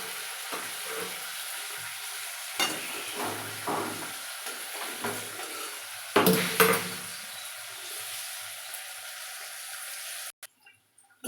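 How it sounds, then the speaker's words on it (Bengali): Paneer fries in a pan with a steady low sizzle, broken by a few scrapes and clinks of a utensil against the pan, close and moderately quiet. "এবার একটু ভেজে নিচ্ছি"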